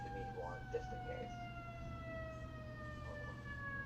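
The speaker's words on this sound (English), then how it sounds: "I do apologize for everyone who's hearing the sirens." Emergency vehicle sirens wail steadily outside, their rising and falling tones held at moderate loudness over a constant low hum, with faint indistinct voices underneath.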